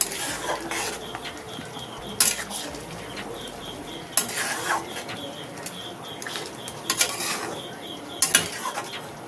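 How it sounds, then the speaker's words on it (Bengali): Boiled papaya is stirred into sugar syrup in a pan, with a steady soft bubbling and repeated sharp metal clinks of a spoon against the pan at intervals. "এই রসের মধ্যে দিয়ে দেব পেঁপেটাকে নেড়ে রসের সাথে মিশিয়ে নিচ্ছি"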